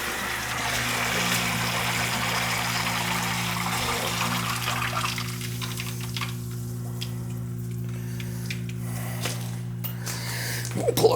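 A Zoeller M57 submersible sump pump, fitted with a failed switch, runs with a steady low electric hum and a continuous watery rush, close and alone, with a brief clatter at the very end.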